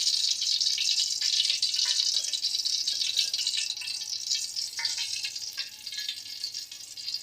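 A spoonful of cooking oil poured into a pan already holding oil, for Telugu stuffed brinjal curry: a steady bright sizzling hiss with light rattling, easing slightly toward the end, with no talk.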